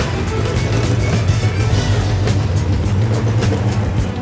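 A Toyota Camry engine swapped into an MR2 runs steadily at idle, a continuous low rumbling drone with a faint rhythmic ticking, close and loud throughout with no talk.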